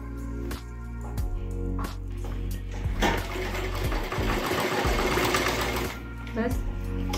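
A sewing machine runs continuously, stitching a short side seam on a blouse where an invisible zip is being attached, with a steady close whir under a woman's speech.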